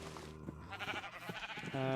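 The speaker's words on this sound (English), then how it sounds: "We'll shear this tied up sheep." A sheep in Minecraft bleats as it is sheared: a short, wavering, nasal bleat up close, ending in a higher, brighter tone, with no talking.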